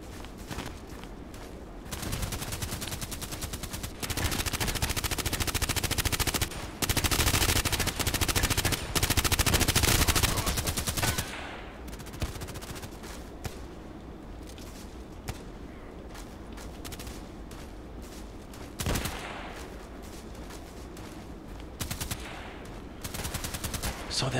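Bursts of automatic gunfire and single shots in the online shooter Contract Wars, loud and dense for several seconds, then sparser distant shots and sharp cracks with quieter gaps between.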